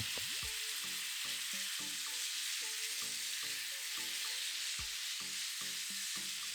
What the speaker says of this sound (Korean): 오양분과 마늘을 넣고 1분 정도 볶아요.